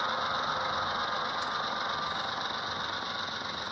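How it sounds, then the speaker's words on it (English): A model diesel locomotive's upgraded sound speaker plays a steady, puttering idling engine, loud and continuous with no talking. "it does a lot of puttering"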